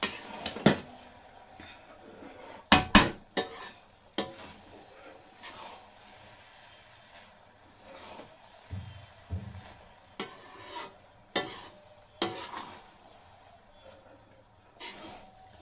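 A lid comes off a pot and a spoon stirs vegetable biryani rice, making scattered sharp metallic clinks and scrapes with quiet gaps between them.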